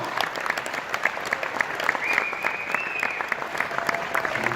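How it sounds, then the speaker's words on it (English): Company event audience giving itself a round of applause, a sustained patter of many hands clapping in a hall, fairly even and moderately loud with individual claps standing out. "Give yourself a big round of applause."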